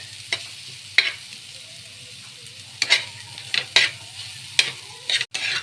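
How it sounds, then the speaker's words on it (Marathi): Green pea chutney frying in oil over a low flame, a soft, quiet sizzle broken by several short scraping stirs at irregular intervals. "आपल्याला तेलावर फ्राय करून घ्यायची आहे"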